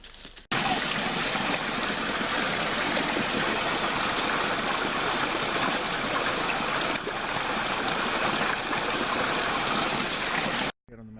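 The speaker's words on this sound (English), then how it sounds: "and got a little old creek here." A small creek flows through New Zealand bush, a steady close rushing and trickling of water that runs continuously until it cuts off near the end.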